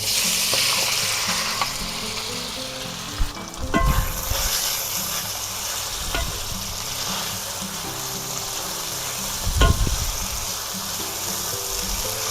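Marinated thin-sliced beef stir-frying with ginger in a hot pan, a steady loud sizzle with scraping stirs and a few sharper clatters of the utensil, no talking.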